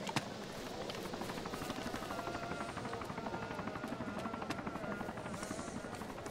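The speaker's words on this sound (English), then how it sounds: "It looks like a cop chopper." Helicopter in the video game Arma (Takistan Life) flying and coming in to land, a steady rapid rotor thump under the engine whine, continuous and moderately close.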